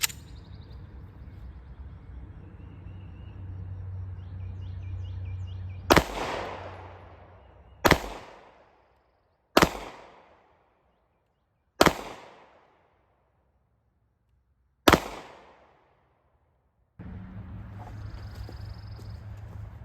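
Five sharp pistol shots fired at a target on a shooting range ring out one at a time, a few seconds apart, each a loud crack with a fading echo tail.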